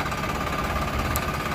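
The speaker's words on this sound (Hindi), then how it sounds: "तो जो अभी गाड़ी आप देख रहे हैं वो फ़िलहाल एक ट्रैक्टर है" An Eicher 650 4WD tractor fitted with a backhoe loader attachment runs steadily, a continuous mid-to-low engine drone with no voices.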